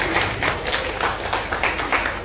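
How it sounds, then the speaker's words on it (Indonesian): An audience claps and applauds at a campus event at UPJ Bintaro in Tangerang, a steady ripple of many hands at moderate loudness that pulses slightly for a couple of seconds. "Tepuk tangan untuk kita semua."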